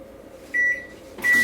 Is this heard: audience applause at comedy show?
no